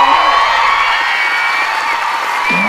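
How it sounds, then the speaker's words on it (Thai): A studio audience at a Thai dating game show cheers and whoops loudly in a steady, sustained roar, with shouting voices blended into the crowd noise. "ขอเสียงปรบมือกับคุณป"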